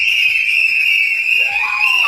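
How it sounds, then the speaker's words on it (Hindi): A shrill, sustained whistle rings out steadily with a second higher tone sliding in near the end, loud and close. It comes from family members at a celebration, with faint noise underneath. "उनके परिवार के लोगों ने कैसे सीटियां बजाकर इस खुशी को जाहिर किया।"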